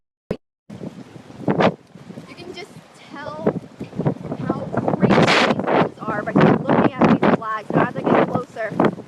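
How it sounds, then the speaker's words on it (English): Strong gusty wind buffets a beach in the Ocean View area of Norfolk, roaring steadily through the microphone with someone talking over the rushing noise. "It's just really, really windy out here."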